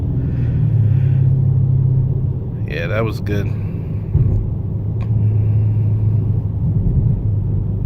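A 2017 Dodge Charger R/T with a 5.7L V8 and eight-speed transmission accelerates with a deep, steady engine rumble heard from the cabin, while someone speaks briefly over it.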